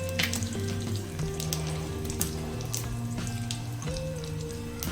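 Peanuts sautéing in hot oil with cumin seeds and curry leaves for sabudana khichdi, giving a steady close sizzle and crackle with occasional stirring clinks, continuous throughout with no talking.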